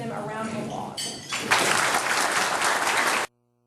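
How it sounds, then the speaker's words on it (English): Audience applause for candidates at a Rotary Club probate judge debate, starting with a voice and scattered claps, then swelling into full, loud clapping before cutting off abruptly. "Let's go ahead and give them a round of applause."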